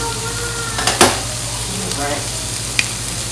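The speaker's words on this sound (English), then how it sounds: "So we're gonna let this just saute for a minute." Shrimp and crab sautéing with Old Bay seasoning in a pan, a steady close sizzle with a couple of brief stirring scrapes and clinks.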